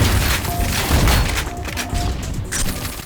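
Grenade explosions boom in Ion Fury, a dense barrage of loud, heavy blasts and crashing debris rolling continuously with several peaks.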